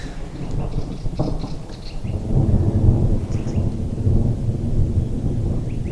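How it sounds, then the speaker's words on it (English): Morning thunderstorm over a bush camp on a 4x4 route to Kalgoorlie, with heavy rolling thunder rumbling continuously beneath steady rain. "Got a bit of a storm brewing this morning."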